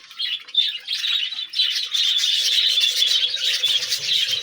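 A flock of small birds chirps and twitters continuously while eating tulsi (holy basil) leaves, bright overlapping calls close by, with faint low cooing underneath and no speech.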